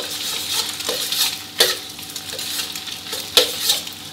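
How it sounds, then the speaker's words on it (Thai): Eggs with chopped garlic are scrambled in a pan over medium heat, with a continuous close sizzle and a few sharp clicks of a utensil against the pan. "แล้วก็ยีไข่ได้เลยครับให้ไข่ฟูดีเลยนะครับ"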